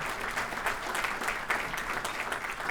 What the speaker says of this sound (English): Give her a big round of applause also.